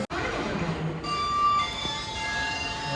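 Rumbling train passing nearby at Bangalore Majestic with metallic wheel squeals and steady rolling noise.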